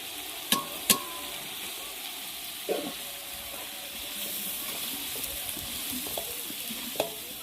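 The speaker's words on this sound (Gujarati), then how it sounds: "મસ્ત દાળનો વઘાર" Hot oil sizzles quietly as spices crackle while tempering dal with curry leaves, ginger and tomato, with a few sharp pops and clinks of a spoon against the pan.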